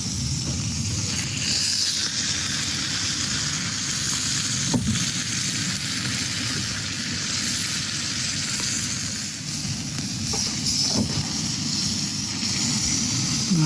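Fat frying in a pan until crisp, a steady loud sizzle and crackle running the whole time with occasional pops and stirring, no talking.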